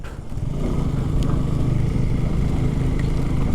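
A motorcycle rides along a hill road through the hills near Mirinja Valley in Bandarban, its engine droning loudly and continuously up close with a rough, throbbing low rumble.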